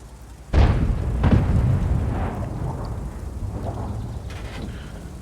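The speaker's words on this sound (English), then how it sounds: "here's the arty shell that he just blind fires" A blind-fired artillery shell strikes with a sudden heavy boom in the World of Tanks game. A long rumbling tail follows, with a few fainter thuds and crackles fading over several seconds.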